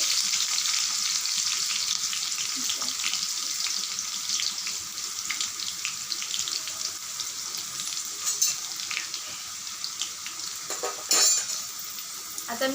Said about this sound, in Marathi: आता एक मिरची टाकली आहे आणि याला आपल्याला एकदम छान फ्राय करून घ्यायचे